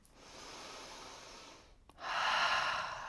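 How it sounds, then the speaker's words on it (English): Deep breathing during a yoga session: a long, soft airy breath, a brief pause, then a stronger and louder rushing breath, close and alone with no talk. "Take a breath. And another breath."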